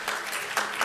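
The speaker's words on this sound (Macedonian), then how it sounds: "Ве молам за еден аплауз за компанијата Божиновски" Audience applause for a company at a women's conference, a brief steady patter of many hands clapping in a hall, fairly close and without speech.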